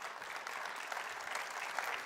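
A church congregation claps together, a quiet, dense and steady patter of applause lasting about two seconds, heard from a distance with no talk over it.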